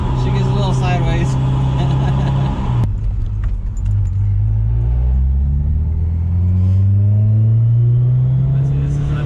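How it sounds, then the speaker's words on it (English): A Honda S2000 engine pulls at half throttle with a steady droning rise in pitch as the VTEC engages, loud and close inside the car, with a brief jangle near the start. "When I go half, you can hear the VTEC popping."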